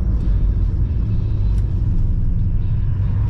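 Steady low road rumble of a car cruising at highway speed with an overdrive transmission and 3.73 rear gears, the engine droning evenly at moderate revs, continuous and close with no talk.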